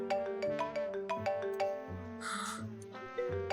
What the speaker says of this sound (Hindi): लकी की कॉल आ रही है